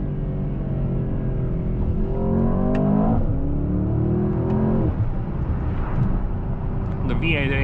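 A 2024 Mercedes-AMG S63 sedan's V8 roars loudly as it revs up and down under load, with exhaust crackles and pops on lift-off, heard from inside the car while someone speaks over it.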